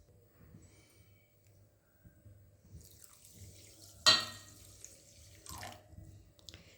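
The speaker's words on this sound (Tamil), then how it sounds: "சக்கரை வந்து முங்குற அளவுக்கு தண்ணி சேர்த்துப்போம்" Quiet splashes of water being poured into a pan of sugar for Mysore pak, with a short sharp splash and a softer trickle afterward against faint background hum.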